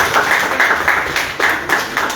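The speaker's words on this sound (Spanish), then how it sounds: "Aplauso para él." Audience applause at a novel presentation, a small crowd clapping steadily at close range with irregular louder bursts and no talking over it.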